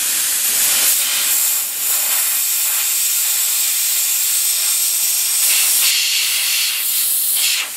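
Plastic welder melting plastic to build up a broken Isuzu Trooper round headlight grille: a loud, steady, close hiss that runs the whole time, shifting slightly in tone, with no speech.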